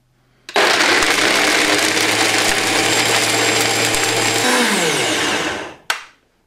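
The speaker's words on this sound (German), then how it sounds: "Und das Ganze könnt ihr jetzt zu einer schönen feinen Creme pürieren." A blender purees a vegan cheese sauce made with yeast flakes, salt and turmeric, starting abruptly, whirring loud and steady for about five seconds, then spinning down and stopping with a closing clunk.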